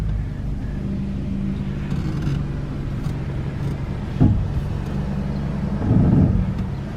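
A Toyota engine idles steadily just after starting, a constant low rumble with a brief thump and a swell of revving near the end, no talking.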